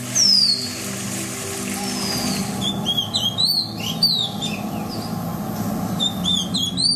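An oriental magpie robin sings in a village, giving a string of clear, high, sliding whistles and chirps in short bursts over a low steady background hum.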